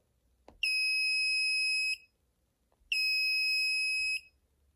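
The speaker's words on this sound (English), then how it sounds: "We can touch it to turn the buzzer on and off." A high, steady electronic buzzer in an industrial panel PC sounds twice, each tone lasting just over a second, loud and close with quiet gaps between.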